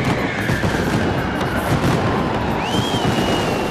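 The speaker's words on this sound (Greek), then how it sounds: "Τα πυροτεχνήματα όμως δεν έλειψαν και φέτος." New Year fireworks bursting in a Greek city, dense crackling and booming explosions with a whistling rocket rising near the end, loud and continuous.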